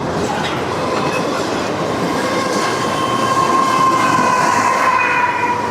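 Long freight train rolling steadily past with a mid-train DPU locomotive, loud continuous wheel rumble and clickety-clack with faint metallic squeal, close by at a trackside spot near Slaughters, Kentucky, with no talking.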